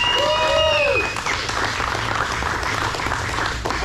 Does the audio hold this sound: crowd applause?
yes